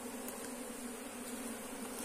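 Honeybees from a swarm formed by splitting a colony, buzzing at an apiary hive with old frames: a steady, dense hum that carries through the clip at a moderate level, with no talking.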